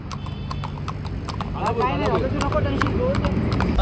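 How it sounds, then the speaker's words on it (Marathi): Hooves of a horse clip-clop in a steady run of sharp, evenly spaced knocks close by, with people talking over them at an outdoor palkhi procession in Khalapur. "हे बघा एक काका आलेत घोडा घेऊन"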